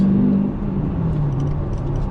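A deep, steady stock exhaust rumble from a 2020 Dodge Challenger Scat Pack widebody close by, low and throaty with a slight drop in pitch as it idles.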